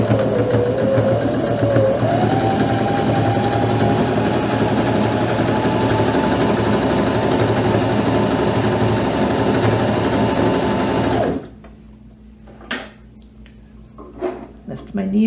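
A Janome Sewist 721 sewing machine runs a smocking stitch in one steady, close mechanical hum for about eleven seconds. It then stops, leaving quiet handling clicks and faint movement.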